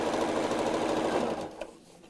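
A sewing machine stitches straight down a seam on a foam dust cover, running steadily and close for about a second and a half before slowing and stopping.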